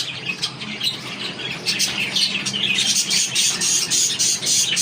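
Two male pet parakeets at home squawk and screech back and forth in a steady, busy stream of harsh calls, close by and fairly loud with no talking.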